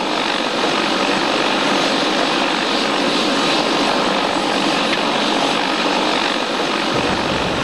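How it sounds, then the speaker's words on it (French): A helicopter hovers loud and close over the desert beside a stuck rally truck, its broadband rotor and engine roar steady throughout. "bien content d'avoir la visite de l'hélico"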